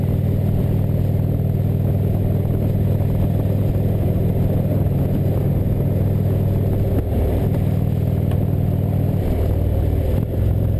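Indian Chieftain motorcycle engine winding down through the gears on deceleration, a loud, continuous, close on-board drone with no speech.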